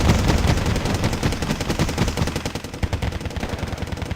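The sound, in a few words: BTR-60 suppressive machine gun fire in video game Wargame: Red Dragon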